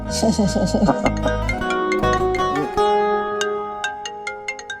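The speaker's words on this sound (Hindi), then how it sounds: "ये देखो, मेरी उसी फ्रेंड का फोन आ गया" A melodic phone ringtone chimes in bright, repeating notes, loud and close, with short bell-like tones trailing at the end.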